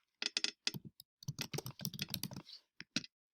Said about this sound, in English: We are going to type in welcome letter.